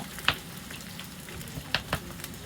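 Onions and green chilies fry in a pan with a soft, steady sizzle, broken by a few sharp pops and spits, quiet and close.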